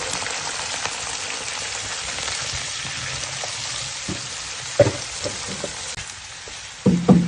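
About 1.5 kg of cauliflower and 1 kg of potatoes fry in oil with whole spices for aloo gobi, making a continuous crackling sizzle broken by a few sharper clatters of stirring near the end, with no voices.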